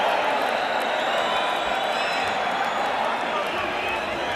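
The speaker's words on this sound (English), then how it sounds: "the crowd is applauding the courage of Steve Zouski as much as they're applauding the efforts of Mike Tyson" Boxing arena crowd at a Mike Tyson bout against Steve Zouski, a dense, steady wash of applause and cheering that holds at an even level throughout, with a commentator's voice running over it.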